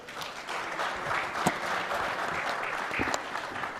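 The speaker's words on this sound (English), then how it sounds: "Can you please help me clap for them?" An audience at a cassava summit plenary session claps for the panelists, a moderate, continuous patter of hands with a few sharper claps standing out, heard at a slight distance.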